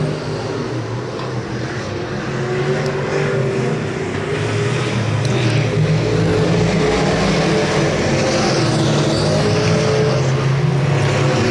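Race cars roar around the Electric City Speedway track in Butler, Missouri, a loud, continuous engine drone that swells and shifts as the pack circles, with no voices over it.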